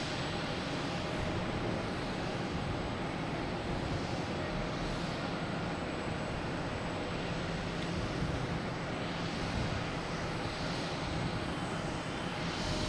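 Aer Lingus jet airliner departing on runway 22 at Boston Logan Airport, heard as a continuous, faint, distant engine roar that stays even and unbroken, with no voices.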